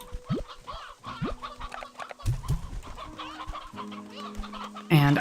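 Chickens cluck in a video game as they are herded back into their pens. Repeated short clucks and squawks rise over soft game tones and chimes, with no talking.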